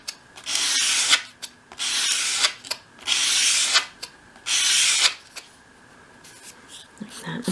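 Four long sanding sweeps rub along the edge of a small wooden piece for a 1/12th scale dollhouse craft room cupboard. Each sweep is a loud, close, raspy stroke with short pauses between them, followed by softer handling noises.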